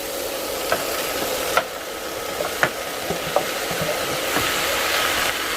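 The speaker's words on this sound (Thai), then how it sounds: "ผัดให้ผักมันสลดนะคะ" Mixed vegetables such as broccoli and cauliflower sizzle steadily in a hot pan while being stir-fried for sweet and sour shrimp, with occasional clinks of a utensil against the pan over the constant frying hiss.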